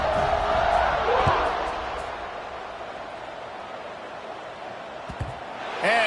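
A college football video game stadium crowd buzzes and roars at a steady level throughout, a broad wash of cheering that swells at the start and again at the end.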